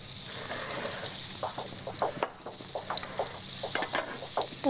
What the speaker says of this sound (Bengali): মাখনটা একটু মেল্ট করলেই আমরা পেঁয়াজ বাটা দিয়ে দেবো